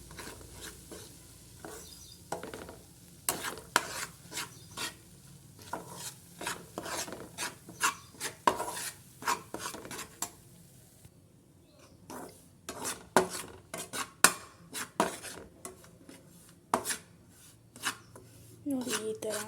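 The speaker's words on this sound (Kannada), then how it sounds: "1 ಕಪ್ ಕಡಲೆ ಹಿಟ್ಟನ್ನು ಆ್ಯಡ್ ಮಾಡಿ ಮಿಕ್ಸ್ ಮಾಡಿ" Gram flour being stirred into a mixture in a pan while making a flattened-rice dish, with repeated rasping scrapes of the spoon that come in steady irregular strokes, loud and close, with no talk.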